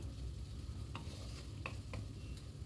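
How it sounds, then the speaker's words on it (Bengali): Spice masala with slit green chillies being stirred in a pan over a gas flame, soft sizzling with several sharp spoon scrapes and taps against the pan, fairly quiet and without talk. "আবারও একবার সব কিছুকে ভালো করে নেড়ে চেড়ে নিচ্ছি"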